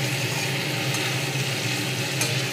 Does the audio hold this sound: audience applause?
no